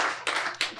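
Audience clapping at a panel discussion, three or four short bursts of applause in quick succession, close and fairly loud, with no speech.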